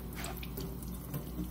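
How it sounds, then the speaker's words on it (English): Water runs steadily from a tap as a beeswax food wrap is scrubbed with a soft brush, a soft continuous splashing close by with no voices. "Using a soft scrub brush and some water, begin by removing the debris on the beeswax wrap,"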